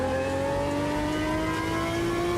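Race car engine revving hard in the sim racing game Automobilista 2, historical content, with rising tonal harmonics climbing steadily as the car accelerates, loud and continuous with no voices over it.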